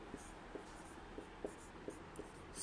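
Pen writing a Hindi sentence by hand on paper, faint scratchy strokes in short irregular bursts, close and quiet with no talking.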